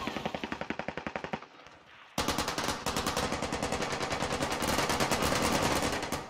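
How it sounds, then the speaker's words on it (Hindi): Sustained LMG turret fire in Call of Duty Warzone Pacific, rapid rhythmic bursts that pause briefly then resume louder and denser, continuous heavy automatic shots close by with no speech. "अंदर एलएमजी लगा रखी है, टरेट टरेट चला रहा है।"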